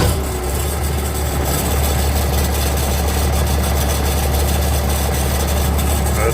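A Case 1175 tractor engine idles steadily nearby, a loud, even low rumble with constant vibration throughout and no other sounds breaking through.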